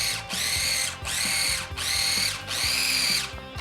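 Food processor making a quick chop of deviled ham: four loud, even whirring bursts of the motor, each lasting under a second, with short pauses between them.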